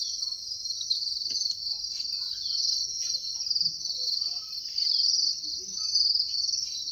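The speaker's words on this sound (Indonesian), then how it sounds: "Kalau di sini tuh banyak banget ada jangkriknya." Crickets chirp in a steady high-pitched trill that runs continuously, close and fairly loud, with gentle swells in volume and no voices.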